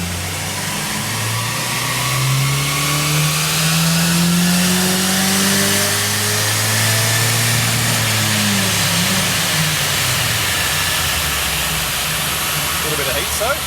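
A car engine pulls hard at wide open throttle on a test run, revving steadily upward with a loud, rising drone and intake roar that peaks and falls back, heard close and continuous throughout.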